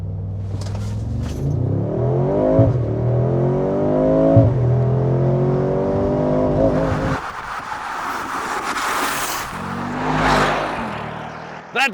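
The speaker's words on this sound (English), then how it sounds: "That V8 is something else." A Mercedes-AMG G 63 V8 engine accelerates hard from inside the cabin, its deep rumble climbing in pitch through several gears with a sharp dip at each shift, then easing into a lighter, rushing drone near the end.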